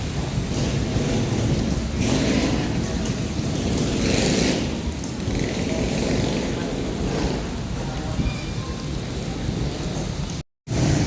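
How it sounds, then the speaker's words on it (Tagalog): Heavy monsoon rain pours steadily by the Pasig River in the Philippines, a loud, continuous wash of rain with low rumbling swells and no speech, cutting out briefly near the end. "tuloy-tuloy pa rin ang bugso ng ulan dito."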